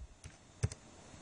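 A few light clicks as keys are typed on a computer keyboard while entering a hostname in a terminal: sparse, close taps with a slightly stronger pair near the end, no talking.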